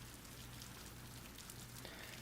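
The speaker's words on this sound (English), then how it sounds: "she had to suffer through a winter rain" Steady rain falling as a visual novel sound effect, a constant dense hiss with a low hum underneath, even and unbroken throughout.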